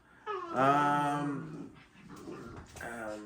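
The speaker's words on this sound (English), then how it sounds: "my dogs are growling" Pet dogs growl and whimper indoors beside a home kitchen, a close, sustained, tonal grumbling that rises and falls across a few seconds with short breaks.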